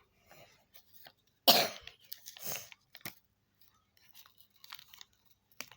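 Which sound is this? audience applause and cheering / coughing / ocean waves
coughing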